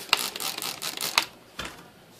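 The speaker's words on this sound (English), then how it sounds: "So I just spray her down real heavy." A trigger spray bottle of glass cleaner sprays onto an ink stain in carpet, giving a few quick hissing squirts, each opening with a sharp click, fairly close and with no talk over them.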